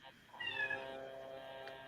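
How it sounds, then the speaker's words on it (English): A domestic cat gives a single drawn-out meow, moderately close and fairly soft, against a quiet indoor background. "Oh, who's Kitty? It's not my cat"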